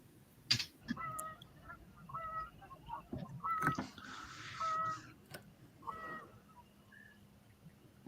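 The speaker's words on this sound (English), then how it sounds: "You heard the Geese Night, yeah." Geese honking at night, several hoarse calls scattered through the stretch at moderate distance over a quiet outdoor background.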